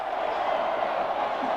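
A football stadium crowd at a 1996 college game, Arizona State at UCLA, roars steadily and loudly throughout, a dense continuous wash of cheering with no breaks.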